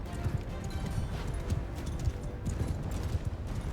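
Horse hooves clip-clop steadily in Mount & Blade II: Bannerlord, a continuous moderately loud trotting patter with no voices over it.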